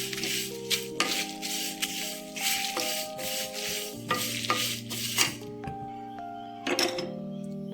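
Washed and dried curry leaves hit a hot pan for karam podi and crackle in pulsing sizzling bursts, with a few rattles from the pan. Steady musical tones play underneath.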